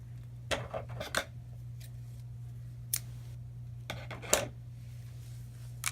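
Scissors snip through twine for a Valentine's Day gift wrap, a few short crisp cuts in quick pairs with pauses between, close and fairly faint over a steady low hum.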